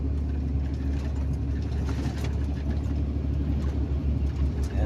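A vehicle overtaking on a winding road in Atimonan, Quezon, its engine a steady low rumble with continuous road noise throughout, fairly close and without talk.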